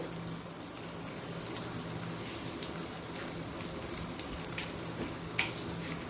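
A halved dried chilli, a halved bay leaf and whole cumin sizzle in hot oil as a tempering for a Bengali bhetki fish-bone chorchori, giving a steady close crackling hiss with scattered pops and no voices.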